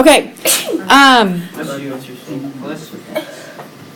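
A single sharp human sneeze bursts out near the start during a math lesson on graphing lines, followed by voices talking.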